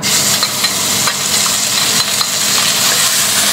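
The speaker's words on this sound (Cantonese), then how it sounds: "首先咧我哋就炒呢個豬肉先。" Pork stir-fried over high heat in a hot oiled wok for a fish-fragrant eggplant claypot, giving a loud, steady sizzle with scraping stirs of the spatula throughout, near and without speech.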